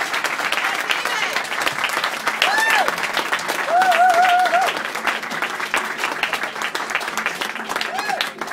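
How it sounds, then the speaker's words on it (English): Audience applause at a live comedy hypnosis show, sustained clapping from a crowd filling the whole stretch, steady and loud, with a performer's voice heard over it. "A big round of applause for David."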